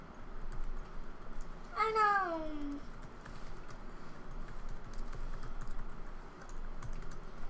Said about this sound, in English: I'm just going to type in Synergy.